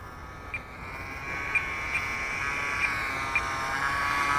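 Nitro engine on an Ultra Stick RC plane, an OS .40FP, making a low pass: a steady high-pitched buzzing whine held for several seconds, moderately loud with slight pitch wavering.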